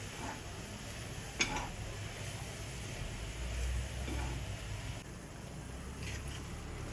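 Jaggery and coconut being stir-fried in a pan, a soft steady sizzle with occasional spatula scrapes and one sharp clink against the pan, close but quiet, no talk.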